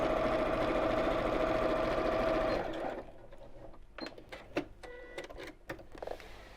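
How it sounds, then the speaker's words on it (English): A home sewing machine stitches a child's drawstring backpack in one steady, close whirring run that stops after about three seconds, followed by scattered light clicks and handling sounds. "But I'm just machine sewing this one."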